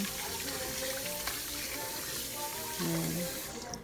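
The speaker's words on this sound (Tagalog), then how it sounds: "Then, hugasan na natin yung bigas." Rice is washed by hand in a bowl of water with a faucet running into it, giving a continuous close splashing and sloshing with no talk.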